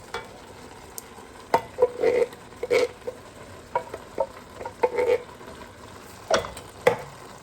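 Crushed tomatoes go into a pot of browned ground beef and Italian sausage sauce, with irregular close scrapes, clacks and stirring bursts separated by quieter simmering gaps.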